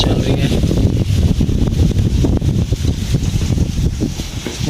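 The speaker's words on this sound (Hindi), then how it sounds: "बड़ी स्पीड के साथ बहुत ही तेज़ हवा चल रही है।" Strong cold wind gusting hard across a village with trees in view, roaring steadily and loudly into the microphone with buffeting bursts throughout, heard from a window during heavy rain and storm weather.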